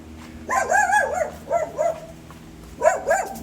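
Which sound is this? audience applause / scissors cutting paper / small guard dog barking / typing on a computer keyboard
small guard dog barking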